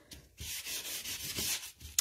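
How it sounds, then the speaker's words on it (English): A sanding block rubs back and forth over a glossy card surface, making soft, close, rhythmic scratchy strokes, about five passes in quick succession. "So if you've got a sanding block handy, I'm just taking some of that glossiness, pulling that back a little."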